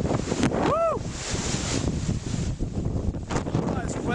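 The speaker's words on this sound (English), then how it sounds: "Oh, it's windy up here." Strong wind roars steadily across a mountain col on the France-Spain border, blasting the microphone throughout, with a brief voice and a whistling tone near the start.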